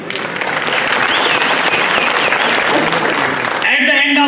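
Big audience applause welcoming a speaker at a Bahujan youth conference, dense steady clapping that fills the whole stretch at constant loudness and then thins out near the end.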